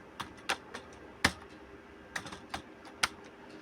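Keys tapped on a computer keyboard while typing a word into an MS Word document: a handful of separate, sharp clicks spaced irregularly across a few seconds, close and fairly clear over a quiet room.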